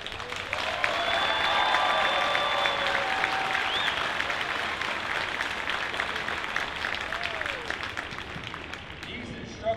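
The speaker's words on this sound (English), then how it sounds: "Ladies and gentlemen, how about a round of applause for our MTI?" An audience at a military training squadron graduation ceremony applauds its training instructors, sustained loud clapping from a large crowd with scattered cheers and whistles, fading toward the end.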